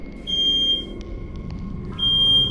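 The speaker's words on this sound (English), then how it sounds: "the ghost kept setting off the smoke alarm all night" A loud, shrill electronic alarm tone sounds, cuts out for over a second with faint clicks, then resumes, near and piercing.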